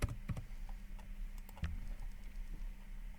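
Typing a search on a computer keyboard: a quiet, irregular patter of close key clicks with a few louder taps, no voice.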